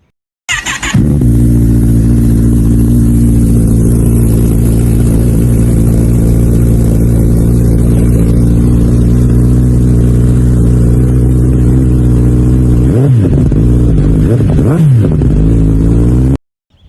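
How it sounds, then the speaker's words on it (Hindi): A motorcycle fitted with a Yoshimura exhaust idles loud and close, with a deep steady rumble that swells into a few sharp revs near the end before cutting off. "अब बारी आ जाती है इसमें योशीमुरा के एग्जॉस्ट की, ये सुनिए"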